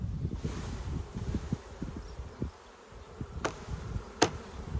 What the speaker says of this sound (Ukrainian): дивіться, який рій. 2-3 кілограми. І струшуємо його сюди.